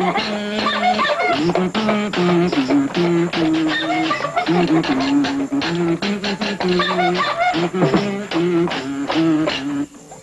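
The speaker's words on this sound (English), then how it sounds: "That was the sound of a one-man band." A one-man band plays alone, a busy run of tuneful, reedy tones over quick rhythmic pulses, fairly loud and close, carrying on for about ten seconds before stopping.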